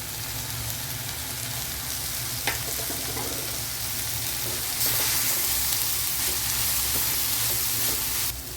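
Grated carrot and other vegetables with coriander, curry leaves and sambar powder sautéing in a hot pan for wheat flour kara paniyaram, a steady close sizzle with occasional stirring scrapes and no talking.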